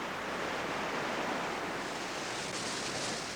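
Dunn's River Falls in Jamaica, a cascading waterfall climbed from the beach, rushes in a steady, loud, broadband roar with no pauses and no voices.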